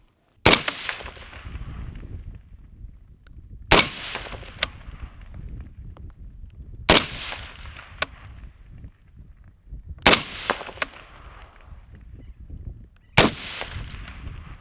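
Five sharp rifle shots from a Gibbz G4 fired at a 100-yard target, each loud crack spaced about three seconds apart and followed by a fainter echo, with outdoor background noise between them.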